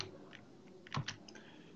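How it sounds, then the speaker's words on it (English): A few sparse clicks of typing on a computer keyboard while entering a library name into a search box in the Arduino software, with faint keystrokes early and a sharper burst of taps near the end. "in the search box, type"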